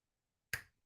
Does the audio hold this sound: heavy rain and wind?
no